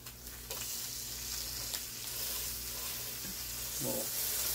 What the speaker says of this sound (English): flip the burger